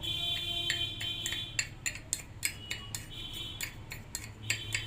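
Roasted ingredients for a cough remedy being crushed into powder with a metal spoon, probably on a griddle, giving a run of close, sharp scraping and clinking strikes at an irregular pace with no talk.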